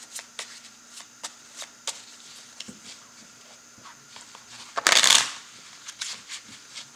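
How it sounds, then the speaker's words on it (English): Tarot card deck being shuffled by hand, quiet riffling taps and soft flicks at an uneven pace, ending in one louder burst of cards cascading together, close and alone. "One more shuffle."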